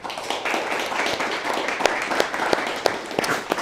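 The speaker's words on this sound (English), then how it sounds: "So, quick round of applause for our panelists." Scattered applause from a small audience for panelists at an angel investing event, irregular claps of moderate loudness with some sharper individual claps, fairly close and brief.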